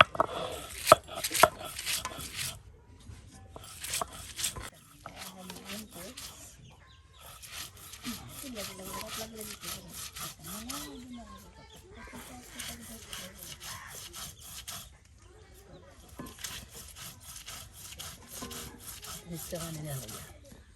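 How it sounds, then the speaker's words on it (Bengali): Repeated rough grinding and rubbing as a bharta mash of chili, onion and salt is ground by hand, in irregular bursts with short pauses between strokes. "এই সব কিছু দিয়া এখন এটারে ফেসা হবে দেখুন"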